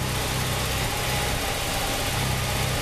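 Car engine idling with a slight misfire from a bad first-cylinder spark plug, in a repair shop: a loud, steady, close engine rumble with a faint uneven pulse and no talking.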